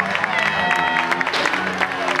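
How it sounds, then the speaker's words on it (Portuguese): A crowd applauds at a rally podium for a car rally crew, dense clapping and some cheering, loud and continuous, with a voice speaking over it. "Vosso aplauso, agora tem que ser, vamos lá."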